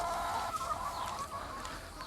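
Hens in a village coop kept for egg production cluck softly and intermittently, several birds close by with a quiet, continuous background murmur and no talk.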